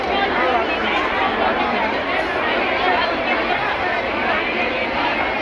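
Dense crowd chatter fills a pavilion at a Shrimad Bhagavat Katha religious gathering in Jaipur, a constant close hubbub of many voices throughout with no pauses.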